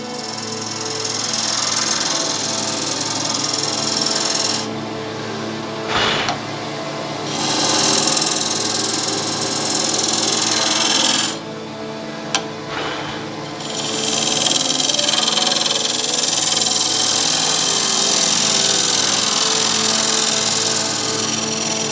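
A wood lathe cuts a tenon on a wooden shaving brush blank with a steady scraping, rasping hiss over the motor hum, pausing briefly twice before the cutting resumes.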